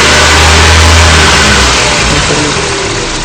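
A gasoline fuel-injected car engine runs during a sensor test, loud and close, with a continuous throaty roar that eases slightly toward the end and no voices.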